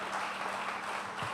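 A church congregation applauding together during a Spanish-language sermon, a dense, steady wash of clapping from many hands filling the room at moderate distance for a brief moment.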